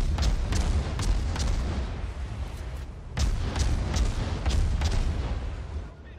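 Naval guns of a Benson destroyer fire in World of Warships, heavy booming shots repeating in a steady rhythm over a continuous low rumble, loud and close throughout with no pause in the barrage.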